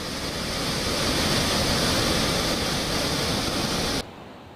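Tapi river floodwater pouring over the Rander–Singanpore causeway in Surat during the monsoon makes a loud, continuous roaring rush that cuts off abruptly to a quieter hiss near the end.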